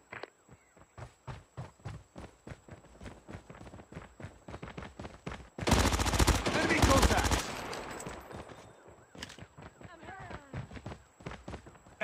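A sentry gun in Call of Duty Mobile fires one loud, rapid burst of close gunfire lasting under two seconds, set between long runs of quick, rhythmic tapping steps.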